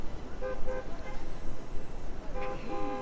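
Car horns toot repeatedly in short bursts over a steady rumble of New York City street traffic near Central Park, some honks close and others farther off.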